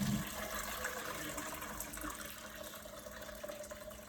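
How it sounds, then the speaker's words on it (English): Water drains from freshly washed wool lifted over a sink, a steady close-up trickle and splash that fades slightly over a few seconds, with no voices. "Again, lift it out, let it drain."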